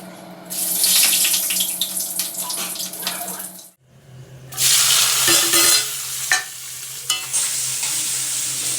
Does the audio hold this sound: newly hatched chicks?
no